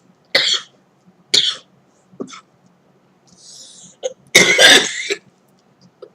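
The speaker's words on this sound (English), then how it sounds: "So I've got a cough" Several harsh coughs up close, spaced apart with a throat clear between them, ending in a longer, rougher coughing burst.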